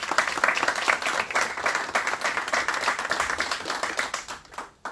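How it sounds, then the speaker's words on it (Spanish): An audience at a political coaching workshop gives a congressman a round of applause, a burst of brisk, lively clapping from a room of people that tapers off in the final moments. "el congresista de la República, Gino Costa, a quien le rendimos un fuerte aplauso, por favor."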